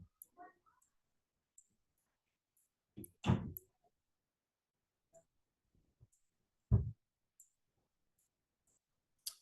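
Computer mouse clicking during survey software use, a few sharp isolated clicks spaced apart in near silence, with two louder click bursts standing out.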